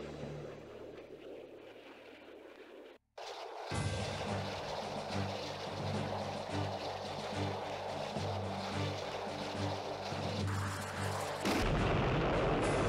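Missile launches and hits in a naval wargame, a low rumbling boom that cuts out briefly, then a sustained roaring blast with a heavier surge near the end, loud with no voices.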